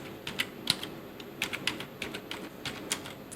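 Rapid, irregular clicking of keys being typed on a computer keyboard, close and clear, with no voices over it.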